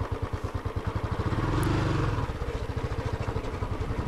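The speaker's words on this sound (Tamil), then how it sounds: "வண்டி ஆன் பண்ணி ஒரேடியாக சரி இறக்கி விட்டுட்டேன்" Motorcycle engine running while riding down a rough road under road works, with a close, steady, pulsing chug that swells briefly in the middle and carries on with no talk.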